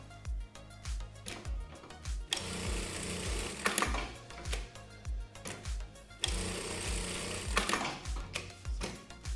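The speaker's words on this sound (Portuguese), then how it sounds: "se você não tem a máquina traveste, você faz um retrocesso ali 4 vezes indo e voltando" A sewing machine backstitches a bikini seam, running close and loud with rapid rhythmic needle thumps, speeding up and slowing down in alternating bursts as it goes back and forth.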